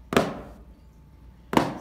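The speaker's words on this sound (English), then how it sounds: "So these are alternating flams." Two crisp alternating flams on a snare drum land about a second and a half apart, each a quick double strike, with quiet room tone between them.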